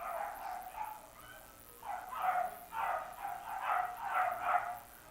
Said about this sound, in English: Very, very noisy dogs.